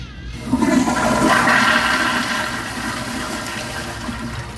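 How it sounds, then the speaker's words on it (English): A toilet flushing nearby, a loud rushing surge of water that swells after a brief pause and holds steady, gradually easing over several seconds with no talking. "I'm going to flush in here."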